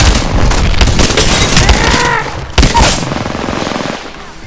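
Gunfire in an Apex Legends ranked match on World's Edge: loud, rapid bursts of sharp shots cluster over a few seconds, then a final heavy crack and a fading tail.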